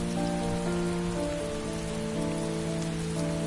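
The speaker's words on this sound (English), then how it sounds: "It's raining." Steady, dense rain falls on outdoor surfaces in the PS4 game Heavy Rain, an even continuous hiss with faint tonal music underneath and no voices.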